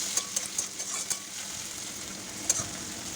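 Chopped tomato dropped into a hot frying pan, a steady close sizzle with a few sharp clicks of a spoon stirring against the pan, no talking.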